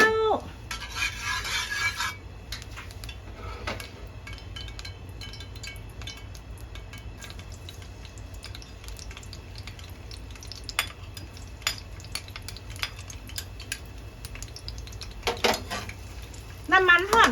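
Cabbage and pork stir-fried in a home kitchen pan with garlic, a metal utensil scraping and clinking against the pan in scattered strokes over a low background hum, with a few sharper clanks near the start and end.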